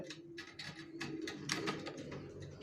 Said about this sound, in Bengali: ছাদেও কবুতর রাখা আছে।